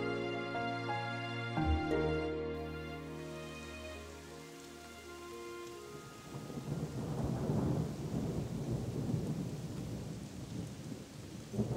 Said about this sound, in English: And as if by clockwork, it's raining.